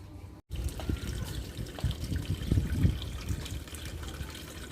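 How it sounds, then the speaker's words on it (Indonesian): Water runs steadily into a bucket being filled for catfish, a continuous close splashing trickle lasting throughout after a brief silent gap at the start, with no talking. "ini proses pengisian airnya, diisi sampai penuh, cukupnya aja, jangan terlalu tinggi"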